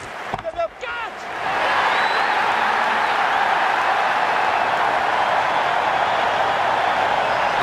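A crowd in an IPL T20 cricket video game cheers. A few sharp claps open it, then a broad roar swells and holds steady and loud.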